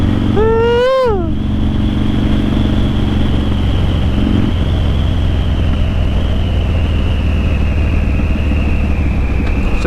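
A motorcycle engine rumbles loudly and steadily nearby, with a brief rising whine early on and a sustained droning tone throughout.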